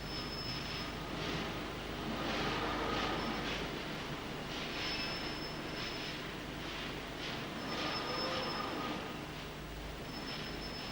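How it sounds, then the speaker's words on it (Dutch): Coal wagons at a Limburg mine being loaded and weighed one after another: a steady broad rumble of rail machinery with faint metallic squeals and periodic swells, fairly distant, no talk. "De ene wagon na de andere wordt geladen en gewogen."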